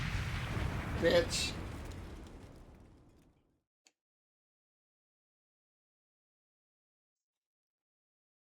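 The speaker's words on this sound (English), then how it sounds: "It's a grenade." Grenade blast in the video game The Hundred Line: Last Defense Academy: a loud burst that rumbles and fades over about three seconds into silence, with a brief spoken word over it.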